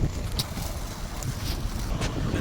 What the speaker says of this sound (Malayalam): രക്ഷയില്ല തണുപ്പ്, നല്ല കാറ്റും.